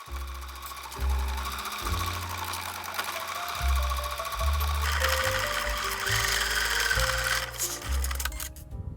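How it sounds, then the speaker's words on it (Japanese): A sewing machine stitches the shoulder seam of a dress in short bursts, its motor whirring and stopping in an uneven rhythm, close and fairly quiet. "肩を縫おう。"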